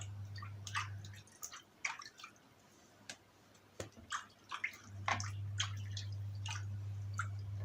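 Warm water poured for a home Moroccan-style bath, with scattered splashes and drips through the first half, then a steady running-water rush and low hum that continues to the end, close by, with no speech.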